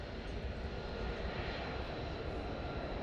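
A USMC F-35B Lightning II jet at an airshow at MCAS Cherry Point holds a loud, steady, broadband engine roar before takeoff, constant throughout with no pauses.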